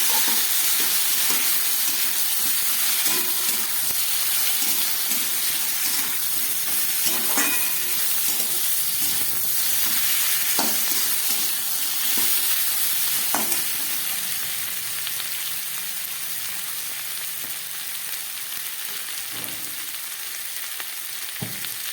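Mustard and poppy seed paste frying in a pan for Bengali vegetarian shukto, a steady close sizzle and hiss with occasional stirring scrapes, softening slightly toward the end.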